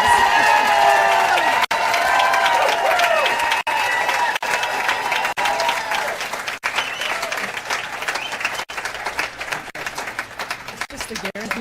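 Audience applause fills a school board meeting room in Portland, a dense sustained clapping with some cheering that continues steadily throughout, with a few voices mixed in.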